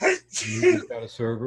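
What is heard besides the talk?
sneeze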